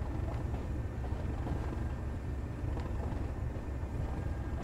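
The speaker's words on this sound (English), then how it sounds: "Why do these locomotives sound like a freaking biplane?" Diesel locomotive engine in the Train Sim World game, a steady droning rumble with a buzzy, propeller-like tone, continuous and fairly loud for the whole stretch with no talk.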